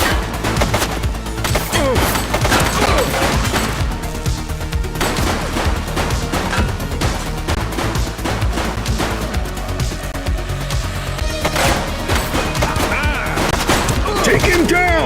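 Rapid gunfire from a suspect during a gang raid on the streets of Averno in the police video game The Precinct: dense, loud bursts of shots and crashes packed tightly together, with faint shouting mixed in.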